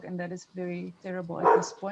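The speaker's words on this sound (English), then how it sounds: "that is my dog" A pet dog barks a couple of times, a sharp burst cutting into close indoor speech that continues around it.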